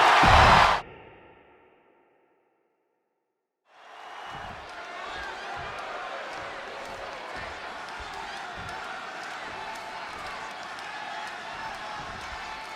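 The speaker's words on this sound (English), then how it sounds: "And just listen to this crowd here in Chicago." A wrestling crowd in a Chicago arena roars in the WWE 2K26 game, a sustained, dense wash of cheering and rumbling that starts after a loud hit and a brief silence.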